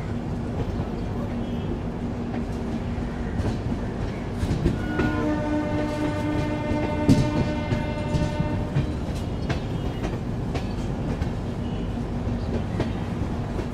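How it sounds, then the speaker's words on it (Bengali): The Kolkata Jammu Tawi Express rolls into Dakshineswar station with a loud, steady rumble of wheels on rails and a long sustained horn blast in the middle, with voices mixed into the noise. "ট্রেন এসে পৌঁছে গেল আমাদের প্রথম হল্ট দক্ষিণেশ্বর।"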